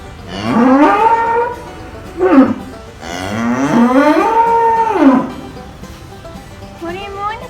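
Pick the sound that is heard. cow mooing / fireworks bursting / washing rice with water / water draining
cow mooing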